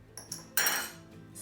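A utensil stirs dry ingredients into wet ones in a bowl, giving a few close clinks and scrapes of metal against the dish, one louder ringing knock midway, then quieter taps.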